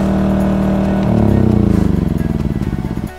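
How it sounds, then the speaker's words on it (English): Portable generator running outside an Airstream trailer at a boondocking campsite near Sedona, Arizona, giving a loud, steady engine drone whose pulsing grows stronger and more rhythmic partway through, then cuts off near the end. "You may hear a really annoying sound in the background. It's our generator!"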